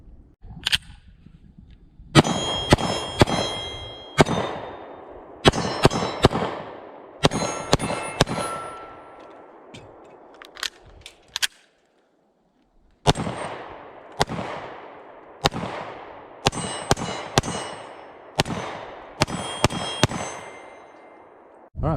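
Pistol shots from a Sig P320 XTEN in 10mm with 180 grain rounds, each sharp crack followed by a ringing clang of steel targets, fired in several rapid strings with brief pauses, loud and outdoors.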